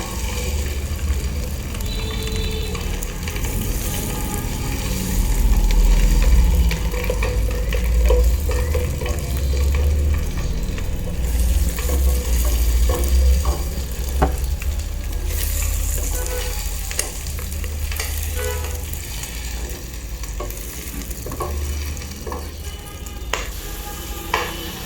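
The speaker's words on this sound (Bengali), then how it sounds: "এখন আমি সরিষার তেলের মধ্যে পেঁয়াজ বাটা দিয়ে দিয়েছি।" Ground onion paste frying in hot mustard oil sizzles loudly and continuously, with frequent scraping stirs of a spoon in the pan and small clinks.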